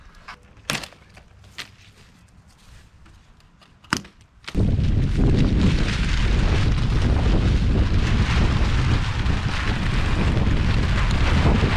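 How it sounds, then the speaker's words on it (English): Strong wind buffeting the microphone outdoors on a warm, windy January day at a shipping container barn build site; after a few sharp knocks, a loud, continuous roaring rumble takes over and holds steady to the end. "Wind kind of sucks for putting up siding and roofing and stuff"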